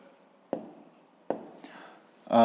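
Pen or pencil writing out the answer to a fifth-grade math exercise: two sharp taps of the tip against paper, each followed by soft scratching, then louder scratching near the end, with a quiet voice in the background.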